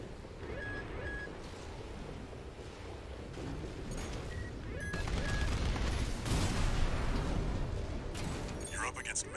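Rapid gunfire and heavy artillery blasts in the video game Armored Core VI, with rumbling explosions building toward the end, plus brief electronic tones and a voice speaking over the combat.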